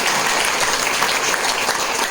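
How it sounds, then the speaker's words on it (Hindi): At a business seminar in Bijnor, Uttar Pradesh, an audience gives a short burst of loud, continuous applause, with many people clapping together at an even intensity throughout. "जोरदार तालियां"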